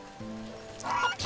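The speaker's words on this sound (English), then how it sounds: "Stupid goose." A goose in the Wytchwood video game lets out a short, harsh honk near the end, after a brief low tone and faint background sound.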